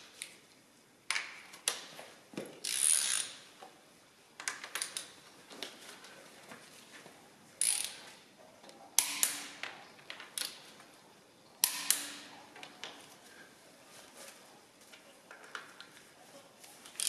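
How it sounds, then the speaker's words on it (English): Torque wrench set to 60 newton metres tightening bolts on a Volvo B18 engine being built for a 123GT, giving sharp ratchet clicks in repeated bursts with pauses between, close and crisp, with no talking. "Now our torque wrench is set to 60 Newton meters."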